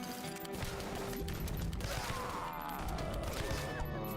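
Rapid bursts of gunfire and crashing explosions pile up in a frantic shooter game, dense and continuous at moderate level with metallic mechanisms, no speech over the din.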